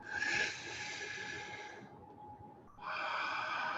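Slow, deep breaths during a guided meditation: a long soft exhale that fades into a brief pause, then a fresh airy inhale begins, close and quiet with no talking.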